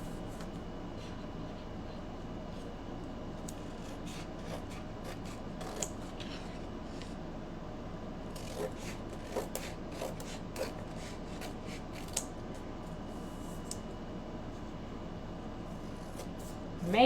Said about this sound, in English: I am going to cut it out.